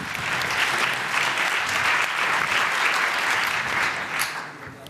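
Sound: audience applause

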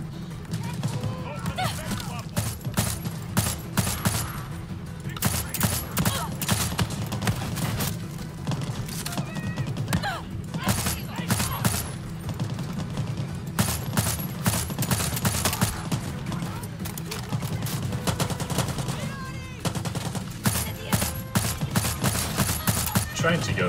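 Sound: gunfire in the video game Far Cry 6

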